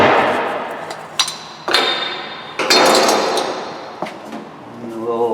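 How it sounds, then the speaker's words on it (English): Metal knocks and clinks as a small hubcap is pried off a wheel of a Chevy GMC 2500HD during wheel bearing work, several sharp taps and thuds spaced over a few seconds, close and fairly loud. "Then pop this little hubcap off."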